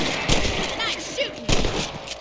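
Rifle gunshots in the Western video game Red Dead Redemption: two sharp reports about a second apart, fairly loud, under game ambience with voices in the background.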